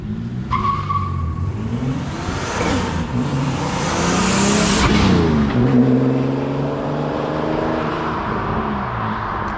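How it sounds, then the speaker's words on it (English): A turbocharged 3800 V6 Camaro with a new custom 3-inch exhaust revs hard, loud and throaty, rising and falling in pitch, close by and continuous with no talking. "Oh, the exhaust turned out way better than I thought."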